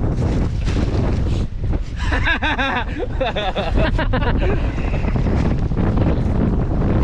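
Strong wind buffets the microphone in loud, continuous rumbling gusts outdoors, with voices chattering and laughing faintly underneath.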